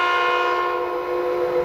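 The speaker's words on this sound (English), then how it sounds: "the train operator is supposed to blast the horn before they reach the platform" A passing train's horn sounds one loud, sustained, steady blast right beside a station platform, holding its chord without a break.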